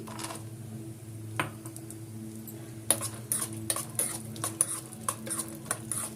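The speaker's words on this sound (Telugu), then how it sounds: "కొంచెం లైట్ బ్రౌన్ కలర్ వచ్చిన దాకా వీటిని ఫ్రై చేసుకుందాం" Almonds and cashew nuts frying on low heat in a pan, heard mostly as a faint sizzle with irregular spatula scrapes and metallic clinks growing busier in the second half.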